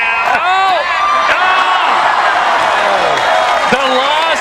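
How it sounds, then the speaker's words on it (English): Spectators at a pickleball match at the US Open Pickleball Championships cheer and whoop loudly throughout, a dense roar of overlapping shouts and whistling voices. "Crowd liking what they're seeing right now."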